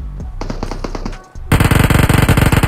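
A shotgun fires in a mobile shooter game, a rapid burst of loud, close, repeated blasts after a short stretch of lighter in-game tapping and shuffling.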